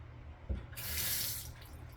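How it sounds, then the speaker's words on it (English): Water from a Delta kitchen faucet being checked during a repair rushes out in a short, loud burst that starts suddenly, holds for under a second, then fades, with no voices. "let's just do a check to see if this water's shut off."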